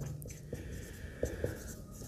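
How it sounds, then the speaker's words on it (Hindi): Quiet pen or marker strokes during a maths lesson on heights and distances, heard as a few soft scratches with small ticks over a steady hum and no clear talking. "तो मैं सीधा लिखता हूं दूरी सी डी इकाई को"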